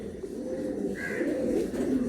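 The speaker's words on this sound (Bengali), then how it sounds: "দারুণ, খুবই হাই ফ্লায়ার পায়রা।" Andhra pigeons, including the Kalshira type, coo in low, throaty, rolling murmurs at close range, overlapping continuously with a brief higher bird note partway through.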